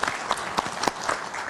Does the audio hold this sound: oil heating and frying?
no